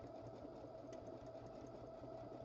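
A sewing machine runs steadily at close range, stitching a decorative fancy stitch onto a needle and sewing supply keeper with a fast, even mechanical rhythm and no talking.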